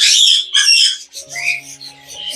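A pet sun conure parrot gives loud, shrill squawking calls in a rapid series, close and harsh, with a faint steady background tone and no speech.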